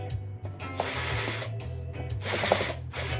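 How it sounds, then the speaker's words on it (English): Screws being backed out of a bass guitar with a hand screwdriver, giving a run of close, dry ratcheting clicks and small mechanical ticks that repeat for a few seconds over a low background hum. "let's take these screws out"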